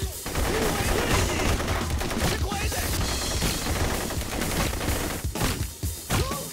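Rapid gunfire during headshot target shooting in the video game Blue Estate: dense, continuous volleys of loud shots and impacts, briefly easing near the end before more bursts.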